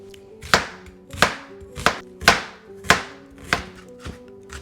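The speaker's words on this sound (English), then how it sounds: "Let's get the ingredients chopped up. Of course, an onion." A knife chopping an onion on a cutting board for pineapple salsa, about seven firm, evenly spaced chops with woody thuds, close and clear, no talking.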